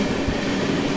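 The 12393 Sampoorna Kranti Express runs slowly on its rails, giving a steady, close, low rumble with faint wheel rattle and no talking.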